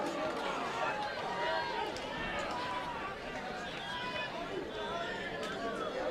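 Crowd at a Māori hockey nationals penalty shootout ground, a busy babble of cheering and excited voices that stays at a steady level throughout.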